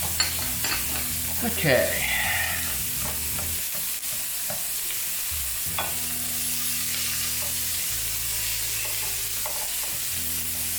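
Onions and peppers frying in a pan are stirred with a spoon, giving a continuous sizzle broken by clacks and scraping pushes, with a brief spoken word.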